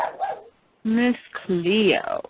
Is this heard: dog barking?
yes